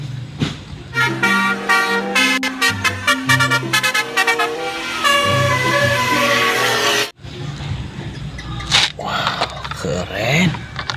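Toy bus telolet horn playing a bright, rapid musical tooting melody, loud and close, followed by a short burst of other toy vehicle sounds.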